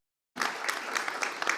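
Applause from the audience at the closing session of an academic conference begins abruptly after a moment of silence, then continues as dense, even clapping with occasional louder claps.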